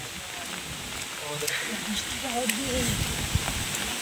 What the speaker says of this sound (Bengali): বাতাস যেরকম আছে বৃষ্টি সেরকম হচ্ছে।